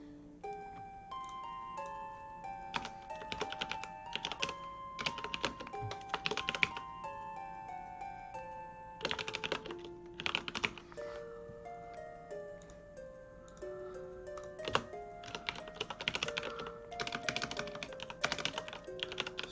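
Steady clicking keystrokes on a computer keyboard while writing notes, irregular bursts of typing with short pauses, up close and fairly quiet, with tonal game music playing underneath.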